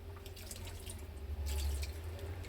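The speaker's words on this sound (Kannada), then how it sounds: "ಸ್ವಲ್ಪ ನೀರು ಹಾಕ್ಕೊಂಡು" A little water trickles softly from a tap into flour for biscuit dough, a brief, faint, close-up splash.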